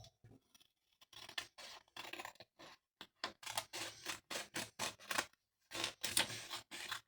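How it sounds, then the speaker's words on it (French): Scissors cut around paper for a scrapbooking project: a quiet run of sharp, irregular snips, sparse at first and then coming in quicker bursts, close up with no talking. "On va se munir d'une paire de ciseaux. Et on va découper autour."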